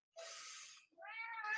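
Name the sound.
cats fighting, meowing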